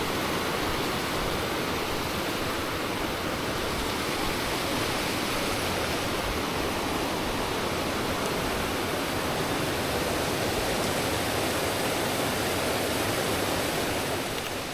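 Otaki Mitaki Waterfalls beside the Nakasendo Trail, a constant broadband roar of falling water, loud and unbroken with no voices over it.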